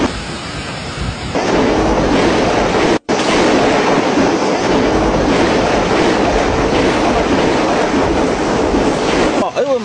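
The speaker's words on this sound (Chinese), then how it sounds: "这么大的冰雹，你的头能接几个？" Large hailstones pound down in a hailstorm, a loud, dense, continuous clatter and roar of ice striking surfaces that fills the air from start to finish, with a brief cut near the beginning.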